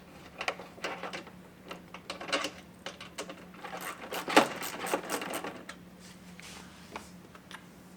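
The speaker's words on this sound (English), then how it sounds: "We're just going to start with the bottom hole, and we're going to go right into that factory insert." A screw with a washer is driven into the factory insert on a 2003-2008 Toyota Corolla while fitting mud flaps, giving quiet, irregular clicking and ratcheting mechanical sounds that build to a sharper tick midway, close and alone.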